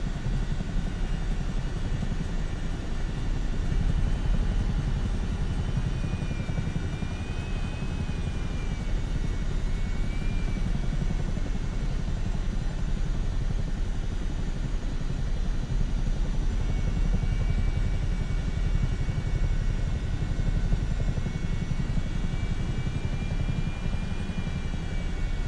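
Helicopter engine and rotors in Microsoft Flight Simulator, a steady loud turbine whine over a deep continuous rotor drone that holds unchanged throughout.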